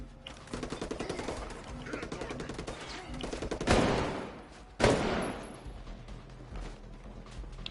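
Gunfire rings out in the shooter video game Tom Clancy's Ghost Recon Breakpoint on PS4: rapid repeated shots under a busy game mix, then two loud sharp blasts a second apart.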